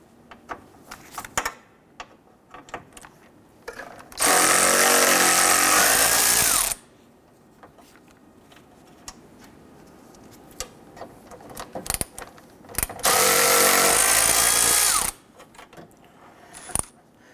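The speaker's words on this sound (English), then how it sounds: "Let's go ahead, loosen and remove those bolts holding that unit." A power tool runs off 8mm bolts holding the AC condenser on a 2011–2021 Jeep Grand Cherokee, in two loud whirring bursts of a few seconds each, separated by quieter clinks and handling noise, close up.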